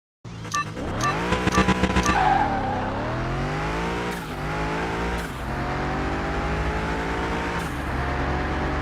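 Engine of a tuned newer Camaro in Car Mechanic Simulator 2021, revving and shifting through gears with rising and falling pitch, short tire squeals near the start, steady loud drone throughout.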